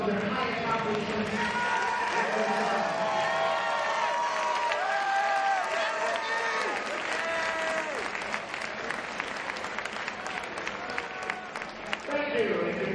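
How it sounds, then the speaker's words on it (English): A crowd claps and cheers at a men's college ice hockey game, a sustained wash of applause filling a large arena, with announcer-like voices and scattered shouts mixed in. "Let's recognize them with a round of applause for their high accomplishments."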